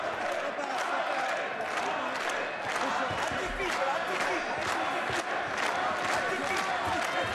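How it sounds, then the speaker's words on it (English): A boxing crowd at a 2012 title fight in Riga keeps up a steady roar of cheering and shouting, with a commentator's voice over the top. "Crowd beginning to get behind the home man."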